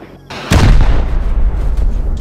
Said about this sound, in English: There's a shotgun trap in that next room.